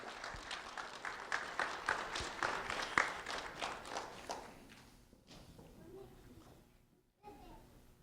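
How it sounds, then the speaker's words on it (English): Audience applause for two fourth-grade students at a public recognition event, a lively burst of clapping for about four seconds that fades out into quieter room noise and shuffling. "A round of applause for Alexa Crispin and Evelyn Hernandez Lopez"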